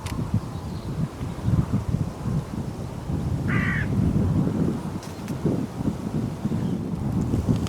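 Hooded crows give a single short caw partway through, fairly distant, over steady wind buffeting the microphone and rustling leaves while they drop toward a decoy and a dead rabbit set out as bait.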